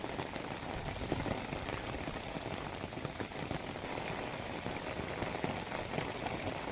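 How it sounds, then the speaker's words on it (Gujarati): Heavy monsoon rain falls in Dwarka, a steady dense hiss of drops striking surfaces, fairly faint and unbroken, with no voices. "રાત્રિના સમયે ભારે પવન અને વીજળી સાથે વરસાદ વરસતો રહ્યો"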